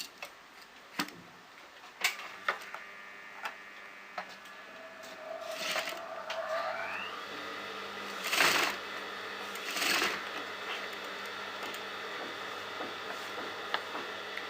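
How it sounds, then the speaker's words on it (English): A sewing machine stitches a V neckline in fabric, with a run of rapid mechanical whirring, some brief pauses, and scattered clicks and ticks around it. No one speaks. "start sewing all over like a V"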